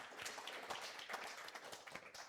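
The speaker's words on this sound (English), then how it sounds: "let's all, if we could, just give our panelists a round of applause." Audience clapping for panelists at a business technology event, a faint, thin patter of scattered hand claps from a small crowd, sparse and fairly distant.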